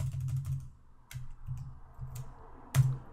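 Short bursts of typing on a computer keyboard, close and fairly quiet, with soft rhythmic keystrokes in clusters separated by brief pauses and a sharper click near the end.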